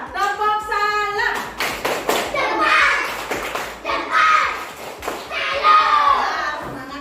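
A class of children chants in rhythm and claps along in a classroom, sharp hand claps punctuating their sung voices in a steady pattern.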